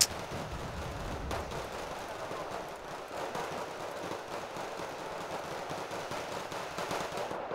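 Sustained gunfire in the real-time strategy game Wargame Red Dragon, a dense, continuous rattle of distant automatic fire with scattered heavier thumps running steadily throughout, no talking.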